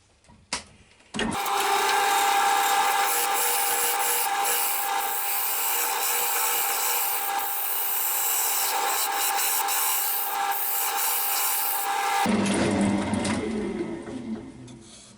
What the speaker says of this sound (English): I'm just taking a bit more off the sides now with the side of the spindle gouge